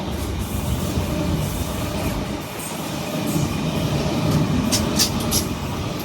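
Sydney Trains Oscar H-set electric train at Allawah Station on the T4 line, a continuous loud rumble of the passing train with some brief high-pitched squeals toward the end, no talk.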